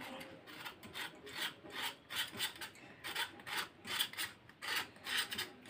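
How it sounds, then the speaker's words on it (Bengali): Thin skin is scraped off a pointed gourd (potol) in a steady run of short rasping strokes, about two per second, close and fairly faint, with no talk. "পটলটাকে এইভাবে আস্তে আস্তে ঘষে ঘষে পাতলা চামড়াটা যেটা আছে গায়ে এটাকে শুধু সরিয়ে নিতে হবে"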